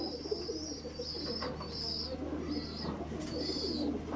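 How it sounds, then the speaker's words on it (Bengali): A green Giribaz pigeon coos in repeated soft phrases, fairly close and clear, over a steady low background hum. "দেখুন এরকম পায়রা আপনার সাথে চলে এসেছে"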